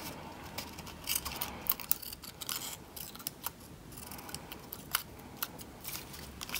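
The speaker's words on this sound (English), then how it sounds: "So I'm gonna just snip this." Scissors snip through paper while trimming a toilet paper roll Halloween witch decoration, a close, quiet series of quick crisp cuts in an irregular rhythm with no talking.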